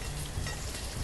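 Steady hissing rainfall in the city-building game Banished, a dense even wash of drops with no breaks, moderately quiet and heard alone.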